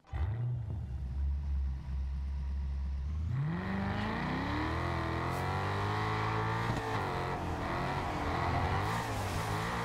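A racing car engine idles low, then revs up and climbs steadily into a loud, sustained high-pitched drone without any turbo whistle.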